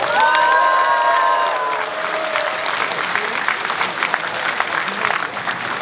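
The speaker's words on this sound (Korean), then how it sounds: "큰 박수 부탁드리겠습니다" An audience at a Korean traditional music festival performance breaks into loud, sustained applause and cheering, with a long steady wash of clapping and a brief held vocal tone over it at first.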